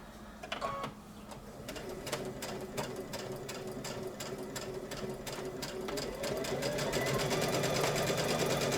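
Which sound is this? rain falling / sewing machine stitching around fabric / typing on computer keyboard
sewing machine stitching around fabric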